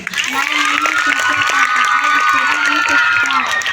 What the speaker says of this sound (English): clap for that girl.